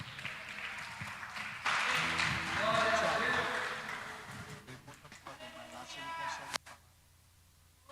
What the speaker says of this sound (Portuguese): Palmas bem alegre para Jesus.